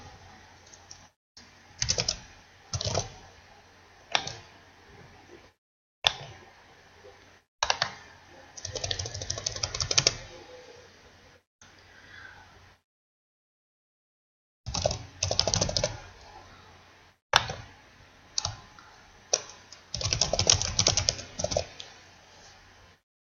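Typing on a computer keyboard, with bursts of quick, close clicking keystrokes separated by short pauses and one longer silence, and no talking.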